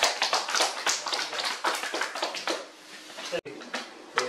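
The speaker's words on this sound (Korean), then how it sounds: "큰 박수 한번 부탁드립니다." Audience applause at a policy meeting, a burst of close, crisp clapping from a group that continues for about four seconds, with a brief drop near the end.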